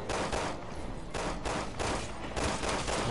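Gunfire in Resident Evil 6, loud and dense, with repeated broadband bursts rolling through the whole stretch and no talking.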